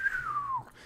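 A man's dry, breathy whistle imitates a melody, one sustained high note sliding slowly downward for about half a second before fading, close and alone.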